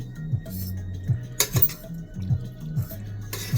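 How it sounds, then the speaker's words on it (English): A spoon clinks and scrapes against a pot while instant beef pho noodles are stirred, with repeated metallic knocks and brief splashes at an uneven rhythm, close by. "the only way to get this stuff to work right is to stir and stir and stir"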